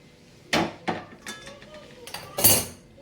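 Roasted cashews being spooned from a pan onto a plate in a home kitchen, several distinct metallic clinks and scrapes spaced apart, close and clear with faint voice between them.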